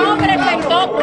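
Dominican journalists boo the Human Rights Watch executive director at a press event for the group's latest report, a dense, loud, continuous mass of jeering voices filling the room.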